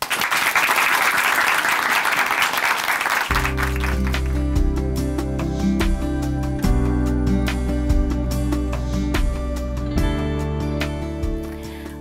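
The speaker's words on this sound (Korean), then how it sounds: "큰 박수를 모실게요." A studio audience claps loudly for a church testimony broadcast, dense applause for a few seconds before instrumental music takes over and continues beneath fading claps.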